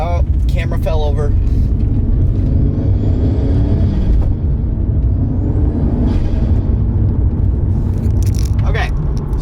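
A Toyota Supra MKIV turbo engine accelerating, a loud steady engine roar heard from inside the car with a voice talking over it at moments.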